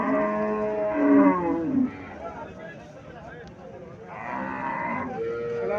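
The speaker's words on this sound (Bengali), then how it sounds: "এখানে একটা গাভী দেখা যাচ্ছে লাল রঙ" A Haryana breed cow at a cattle market gives a long, loud moo, then a second drawn-out moo a few seconds later, with market chatter and background noise around it.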